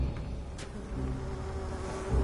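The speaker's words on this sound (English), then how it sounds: "Oh my god, I hate that bee noises." Bees buzz in the Dying Light video game, a steady droning hum that holds close and fairly loud for about two seconds, with no talk over it.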